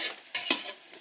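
Sliced onions fry in a pot over high heat for a Pindi-style pulao, giving a steady sizzle broken by a few sharp scraping strokes of a stirring spoon, close and moderately loud.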